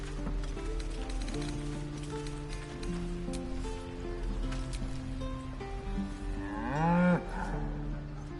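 A cow moos loudly and clearly, a long bellowing call rising near the end, over a steady rain-like background hum and music-like drones throughout.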